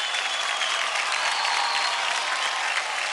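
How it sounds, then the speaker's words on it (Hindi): A studio audience at a televised children's dance competition applauds after a dance performance, a dense continuous burst of clapping filling the whole moment without speech. "जोरदार तालियां हो जाए"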